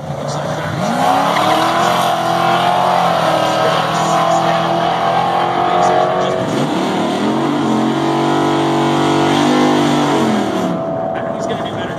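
Race cars, including a 1979 Malibu, roaring around a track with rising and falling engine pitch as they pass, loud and continuous, with an announcer talking over the noise.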